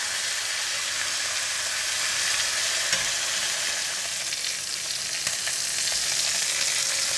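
Pork shoulder grilling and brushed with oil gives a steady, close sizzle: a dense, even hiss of fat crackling on the heat that holds for the whole stretch, with a few sharper pops and no talking.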